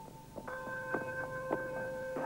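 Village bells ring in a steady series of struck, resonant tones about half a second apart, fairly faint, with a lingering hum between strikes and no voices.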